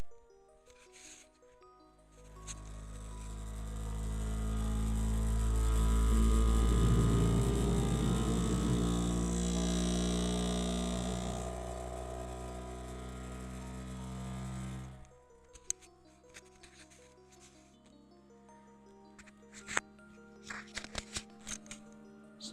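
A Creality K1C Core XY 3D printer runs its vibration calibration, a steady mechanical buzzing whir that swells and fades over about thirteen seconds, heard from close up inside the machine, followed by scattered clicks and small movement noises.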